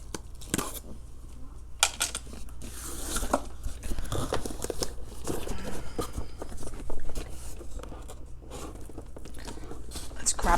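Subscription beauty box packaging being opened with scissors, giving crinkling, tearing and rustling of paper and plastic at close range, with brief bursts and handling noises throughout.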